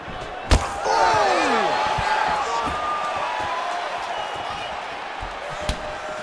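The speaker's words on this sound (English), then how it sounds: "you can hear the crowd as yet another calf kick lands" In a UFC fighting video game, a crowd roars and cheers loudly after a sharp calf-kick thud, the noise swelling and sustained, with another smack near the end.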